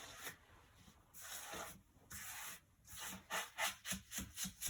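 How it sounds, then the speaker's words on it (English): A smoothing brush rubbing lining paper onto a wall makes long sweeping bristle strokes, then quicker short brushes toward the end, close and fairly quiet with no talk. "I'm going to smooth that bit out."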